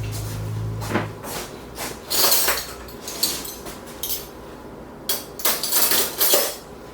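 Cutlery clinking against dishes while a different spoon is fetched, with several sharp metallic rattles and clatters in separate bursts, close by and with no talking.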